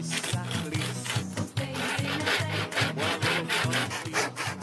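A hand saw, its blade oiled, cuts through wood on a farm in steady, forceful back-and-forth strokes. The rasping rhythm is close and continuous, with no talk over it.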